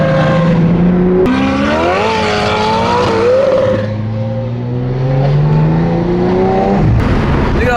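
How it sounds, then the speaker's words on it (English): Engine of a BMW F80 M3 drift build being revved hard on a snowy mountain road: a loud, close, continuous roar that climbs and falls in pitch through several gear changes, with no talking. "It's like a Formula Drift car"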